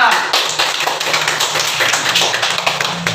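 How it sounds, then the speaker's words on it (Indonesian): A class of children claps together in a religious studies lesson, giving a short, loud burst of close-range clapping with speech mixed into it. "Tepuk tangan untuk doa."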